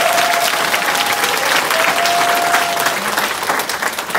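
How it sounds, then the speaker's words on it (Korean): A large seminar audience in a hall applauds loudly and steadily, dense clapping filling the room throughout with a faint tone briefly sounding beneath it. "박수 한번 치세요, 크게."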